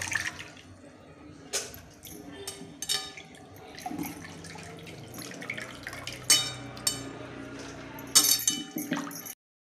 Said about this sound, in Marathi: पोहे धुवून घ्यायचे, अशी खळखळ धुवून घ्यायचे असे